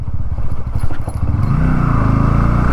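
A 2024 Bajaj Pulsar NS 160 motorcycle rides over a rough, potholed road, its engine a loud, close, pulsing thrum that smooths into a steady drone with wind rush.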